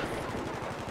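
Rapid automatic gunfire from a shooter video game rattles continuously through the whole moment, a dense, steady burst of shots heard fairly faint and without any voices.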